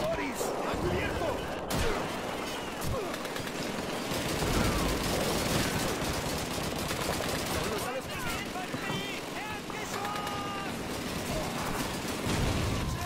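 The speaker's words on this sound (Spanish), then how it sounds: "¡Una ametralladora! ¡Es una MG-42!" MG-42 machine gun fire rattles through a Call of Duty 2 battle on PC, loud bursts of rapid shots mixed with other gunfire and shouted voices over a busy, continuous combat din.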